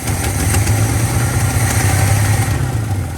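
A 1979 Chevy C-10 pickup engine, pulled from eight years in a tow lot and misfiring, running loud and close with a steady, rough idle that rises slightly as it is revved.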